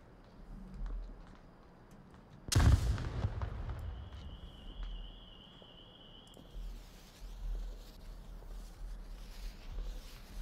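A grenade bursts with one loud, booming blast in a video game scrim, then a long rumbling decay and a ringing tone, followed later by lower rumbles under the game's ambient noise.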